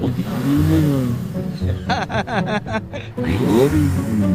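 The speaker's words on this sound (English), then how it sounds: "Go ahead, rev it." Motorcycle engine revved in several quick throttle blips, a loud close rising and falling growl with sharp staccato pulses in the middle, over the steady idle of nearby engines.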